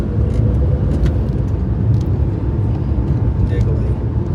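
A Maruti Suzuki Alto car drives and turns through tight spaces, its engine and road noise forming a steady, close drone beneath someone talking.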